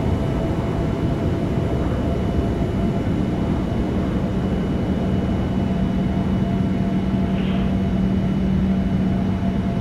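Jet engines of a Boeing 787 airliner roar steadily on the takeoff roll in a flight simulator, a loud, even rumble with a faint tonal whine that holds throughout.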